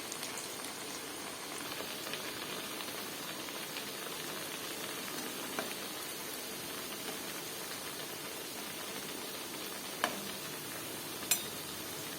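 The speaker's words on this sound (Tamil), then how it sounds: "கடலை மாவு சேர்த்து எண்ணெயில் போட்டு எடுத்தால் கோஸ் வடை ரெடி" Shredded cabbage vada made with gram flour, onion and chilli fries in oil, a soft, quiet, steady crackle with a couple of sharper pops near the end.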